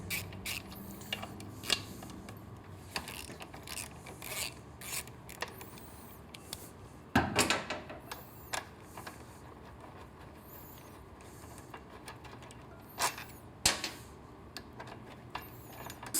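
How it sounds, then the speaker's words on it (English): Hex bit turning out exhaust bolts on a Triumph Street motorcycle during a 2-1 full exhaust system install, heard as close, quiet clicks, creaks and ratcheting scrapes with a sharper metallic burst partway through. "Use your 8mm Allen hex bit"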